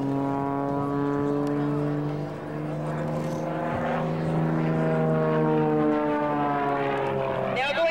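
Canadian Forces Snowbirds jet aircraft at an airshow flying a hammerhead manoeuvre, a loud sustained engine drone with shifting pitch as the aircraft climbs and pivots, with an announcer talking over it.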